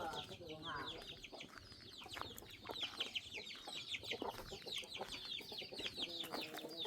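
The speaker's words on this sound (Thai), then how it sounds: "ไก่เนี่ยบ่เป็นหยังตีน้องมุก" Chickens clucking and calling near a forest camp, a busy cluster of close, overlapping clucks with soft human voices faintly underneath.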